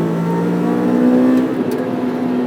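Engine of a 2006 Honda S2000 (AP2) with a 6-speed manual, heard from inside as the driver heel-toes on a track day, a loud steady engine tone rising in pitch with a brief throttle blip, no talk.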